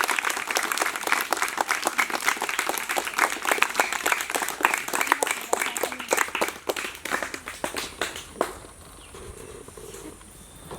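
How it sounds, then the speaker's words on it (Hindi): Hearty audience applause at a gathering, dense clapping that fills most of the stretch and then tapers off sharply near the end, with faint voices afterward. "ढेर सारी तालियों से अभिवादन।"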